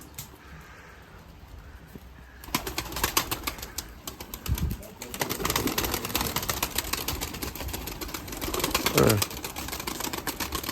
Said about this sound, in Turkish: Evet, diğer kuşları da açalım.